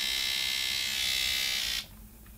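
Gillette Venus Bikini Precision Trimmer buzzing loudly and steadily for almost two seconds, a high, dense electric whine that cuts off abruptly, leaving a faint background hum.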